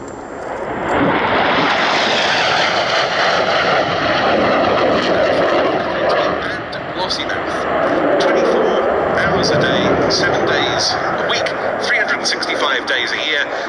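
A Eurofighter Typhoon jet roars past at the Duxford airshow in 2024, a loud sustained broadband rush that swells and holds throughout, with a commentator speaking over it.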